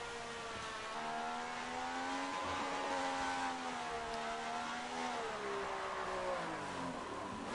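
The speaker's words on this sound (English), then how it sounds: "Here comes the 79 Ferrari of Rollo into the pits." A 1979 Ferrari Formula One car in a racing game, its engine note holding a steady high whine and then dropping and wavering as it slows into the pits, continuous and fairly close.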